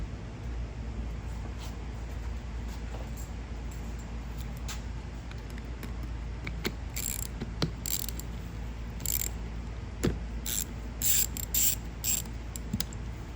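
Metal clicks and ratcheting as a bracket is loosened on a Yamaha Big Bear 400 ATV, with scattered sharp taps that get busier toward the end, over a steady low background hum.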